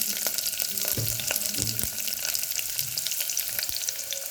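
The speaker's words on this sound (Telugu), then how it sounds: "ఆయిల్లోకి కట్ చేసిన ఉల్లిపాయ అలాగే కరివేపాకు వేసుకుందాం." Chopped onion and curry leaves frying in three tablespoons of hot oil in a cooker give a close, steady sizzle, with a few soft knocks and clinks of utensils.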